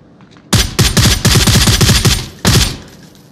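A laser gun fires in the VR shooter game Onward: two dense bursts of rapid, loud shots, about two seconds of sustained fire followed by a short second burst, with no talk.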